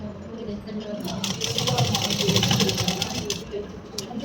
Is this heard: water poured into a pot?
no